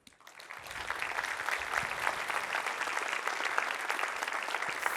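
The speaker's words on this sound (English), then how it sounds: "Fully deserved applause," Applause from a conference audience at the end of a C++ talk on safety, security and correctness, a dense, steady clapping that swells within the first second and carries on evenly for several seconds.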